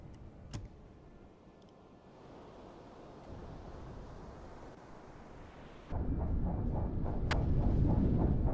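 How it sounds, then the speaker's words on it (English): Depth charge explosions in the submarine game UBOAT, heard as a continuous low, muffled underwater rumble that surges abruptly louder and heavier partway through and keeps booming steadily. "Still explosions, so she's still doing a depth charge run at this point."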